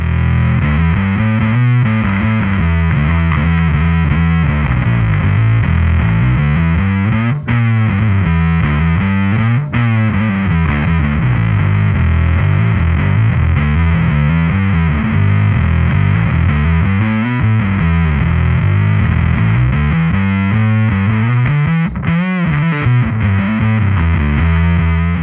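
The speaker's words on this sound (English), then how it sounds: "Here, check it out, a little distortion." Heavily distorted Epiphone Thunderbird Vintage Pro bass guitar playing a chugging, steady riff with gritty overdriven tone, loud and continuous with no talking.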